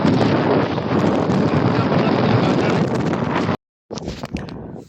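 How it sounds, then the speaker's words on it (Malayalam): Strong wind gusting over an open hilltop on the Tabuk–Sharma route in Saudi Arabia, heavy roaring buffeting on the microphone that cuts out abruptly near the end and then resumes in rougher bursts. "നല്ല കാറ്റ് വീശിക്കൊണ്ടിരിക്കുന്നുണ്ട്. സൂപ്പർ കാറ്റാണ്"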